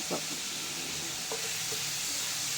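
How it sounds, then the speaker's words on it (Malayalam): Onion, garlic, ginger, green chillies and curry leaves sautéing in a pan for a Kerala-style pepper fish fry, giving a steady soft sizzle with a couple of brief stirring scrapes. "പച്ചമുളകും കൂടെ ചേർത്ത് കൊടുക്കുക പച്ചമണമൊക്കെ മാറുന്ന ഇടം വരെ നല്ലപോലെ വഴറ്റുക"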